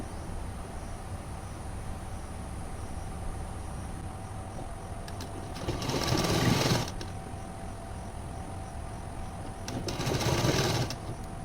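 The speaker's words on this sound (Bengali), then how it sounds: "তারপর আমি ঘুরিয়ে ঘুরিয়ে চারিদিকে সেলাই করে নেব" Sewing machine stitching silk blouse pieces layered over lining fabric, two short runs separated by a long pause, both rising over a steady low background hum.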